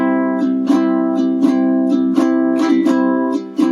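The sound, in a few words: ukulele strum 7 with double up strum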